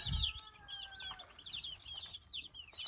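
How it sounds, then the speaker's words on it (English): Many baby meat chicks peep in rapid, overlapping high chirps, a busy continuous chorus close by with a faint low thump at the start. "And this side has our chicks."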